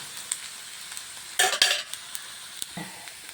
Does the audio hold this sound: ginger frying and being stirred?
yes